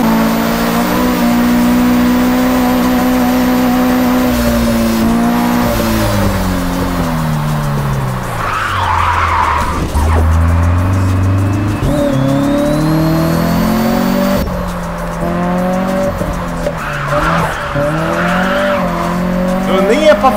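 A car drifts in the Japanese Drift Master racing game, its engine revving up and down while tires squeal and skid loudly throughout, a continuous close mix of engine drone and screeching rubber.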